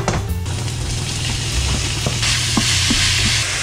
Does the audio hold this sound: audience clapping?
no